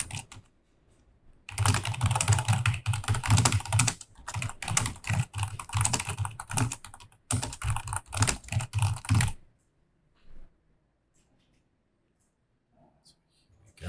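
Rapid, continuous typing on a computer keyboard comes in long, dense bursts with brief breaks, fairly loud and close, before falling to near silence.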